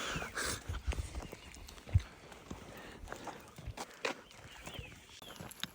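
Horse hooves clop along a mountain trail on the route up to Mushkpuri Top near Nathia Gali, a steady run of close, uneven footfalls over scuffing and outdoor background noise.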